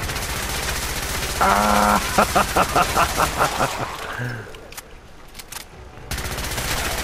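Rapid rifle fire in Fallout 4 rattles in a quick, loud burst of evenly spaced shots. A brief shout comes in the middle, and game ambience follows as the firing stops.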